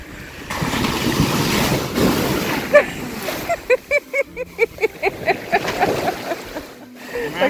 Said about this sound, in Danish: Bare ligge her, hvor der kommer en bølge.